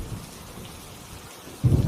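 Soft, steady rain patters throughout, with low rumbling swells and a louder burst of noise near the end.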